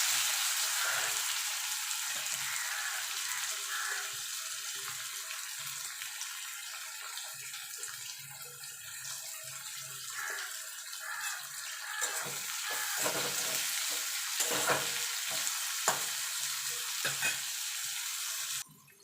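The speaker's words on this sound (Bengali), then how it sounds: "পেঁয়াজটা একটুখানি একদম লাল করে ভাজবো না," Onions frying in a pan and being stirred, with a steady bright sizzle and occasional scraping strokes, close and continuous until it cuts off near the end.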